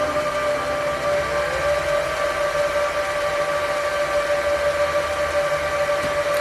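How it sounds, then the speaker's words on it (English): An S2 NetVR network video recorder starting up fills the room with a loud, constant, whining fan hum and a steady tone, unbroken throughout, with no voices. "So when you fire this sucker up, it's going to get a little loud in here."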